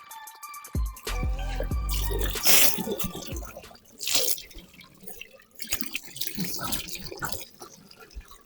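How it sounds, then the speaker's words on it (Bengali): Hands being washed under a running tap on a home balcony, with water splashing steadily into a sink and a few louder splashes and drips over about eight seconds, with no talking. "হাত ধুয়ে ফেলি।"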